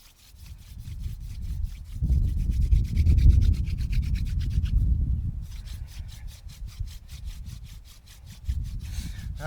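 A wooden hand-drill spindle spun between the palms against a wooden fireboard gives rhythmic, rasping friction strokes, close and rough, in rapid back-and-forth bursts with short pauses between runs.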